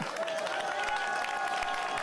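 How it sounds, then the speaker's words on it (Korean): Sparse audience applause at a political rally speech, light scattered clapping heard faintly at a distance with crowd murmur beneath. "그건 또 박수를 또 적게 치네"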